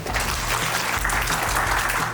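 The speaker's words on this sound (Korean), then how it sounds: "큰 박수로 격려 드리면서 시작을 하겠습니다." Audience applause fills a meetup hall at the opening of a Brity RPA event, a dense steady wash of many hands clapping close and loud throughout, with no speech over it.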